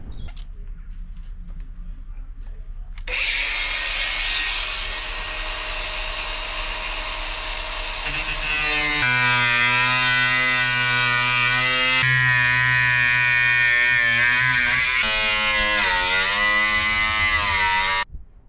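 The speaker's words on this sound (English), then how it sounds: "I have cut from the inside out with the grinder along the straight sections" An angle grinder cuts through the sheet-metal body panel of a VW Crafter van for a window opening, a loud, steady high-pitched whine that starts after a short quiet lead-in and shifts in pitch as the disc bites, running nearly nonstop with no talking.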